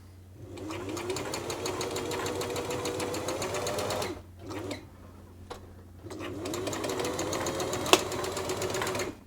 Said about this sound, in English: turn the machine by hand for a few stitches to make sure nothing's jamming up there